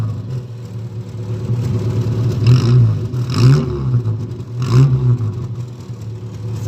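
A Simca Aronde Rush Ranch car engine idles steadily after a winter start, a low continuous rumble with a few gentle swells in revs, close and fairly loud, without talking.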